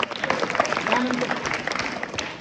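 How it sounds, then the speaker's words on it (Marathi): An audience applauds during an on-stage interview, a short ripple of clapping under speech. "टाळ्या"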